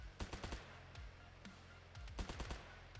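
Gunfire from shooting at enemies in the video game Daisen comes in two quick bursts of rapid shots, sharp and fairly close, separated by a brief pause with a few isolated shots.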